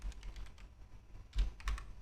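Brief bursts of computer keyboard typing, a few soft scattered key presses followed by two louder clustered clacks, close and without talk.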